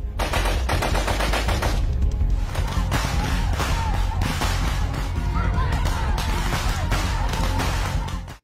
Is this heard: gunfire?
yes